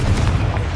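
A Confringo blasting spell in Hogwarts Legacy goes off as a single short, heavy explosive boom, loud and close, with a dull low rumble.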